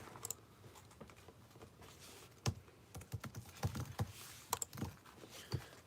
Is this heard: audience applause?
no